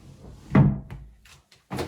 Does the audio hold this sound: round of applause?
no